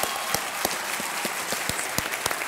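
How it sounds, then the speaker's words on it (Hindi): On a TV quiz show, a studio audience applauds departing contestants with a short, even round of clapping from many hands, sharp individual claps standing out over the crowd's continuous patter. "हम तालियों के साथ इनका एक बार फिर अभिनंदन करते हैं।"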